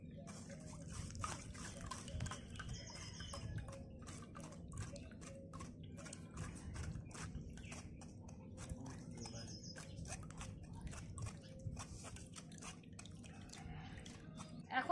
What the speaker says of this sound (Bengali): এখন আমি আমের শরবতটা ছেঁকে নিচ্ছি। এটা এভাবে ছেঁকে নিতে হবে, খাবার সময় মুখে লাগবে না।